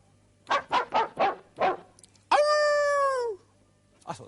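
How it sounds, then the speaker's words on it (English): Dog barks are played back as musical notes: five short, evenly spaced barks, then one long held tone that slides downward, all quiet and clean over a faint steady hum. "there are some television programs which make the occasional puny attempt to get dogs to sing, but you ain't heard nothing yet"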